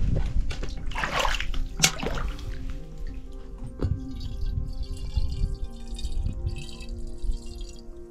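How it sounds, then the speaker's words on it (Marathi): Water splashing and dripping as a bottle is filled with drinking water at a mountain spring on the Rajgad fort trek in the Sahyadri hills, a steady near trickle with a few louder splashes and no talk. "तर मी इथली बाटली भरून बघतो कसं आहे आणि मग तुम्हाला सांगतो."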